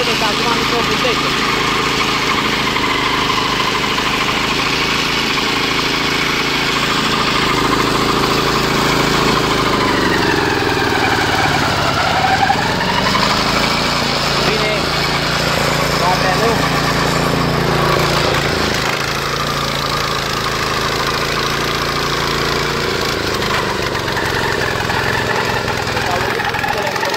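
A two-wheel tractor (motocultivator) engine with a carburetor problem runs steadily nearby, a loud idling chug that dips and surges unevenly, with people talking over it.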